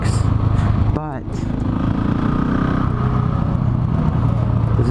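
A 2018 Husqvarna 701 Supermoto motorcycle rides along with a loud engine drone that dips and shifts pitch briefly, then pulls on steadily while someone talks over it.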